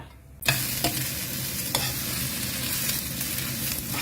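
Oil crackles and hisses in a pan as food is stir-fried, a dense continuous sizzle starting abruptly and holding steady, with occasional sharper scrapes of a spatula, close and loud.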